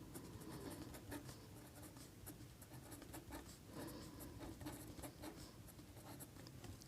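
A pen scratches steadily across paper while math is written out, a quiet continuous scribbling with small rhythmic strokes and taps, close and without talk.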